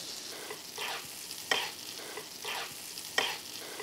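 A piece of meat sizzles in a pan as melted butter is spooned over it, a soft steady frying hiss with rhythmic swells and clinks from repeated basting strokes, close and fairly quiet.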